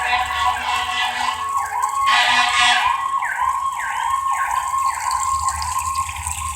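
An ambulance siren wails in a repeated rising-and-falling pattern, loud and fairly near, over a low traffic rumble.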